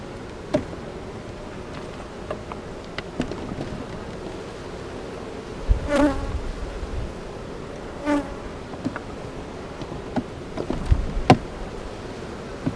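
Honey bees hum steadily around an open hive, a dense droning buzz throughout with individual bees passing close to the microphone, plus occasional knocks and scrapes of hive equipment nearby; no talking.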